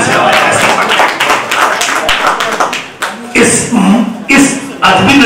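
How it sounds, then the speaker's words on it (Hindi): An audience at a poetry gathering claps loudly and continuously at first, then the applause breaks into scattered bursts of clapping and tapping. "जोरदार तालियों से"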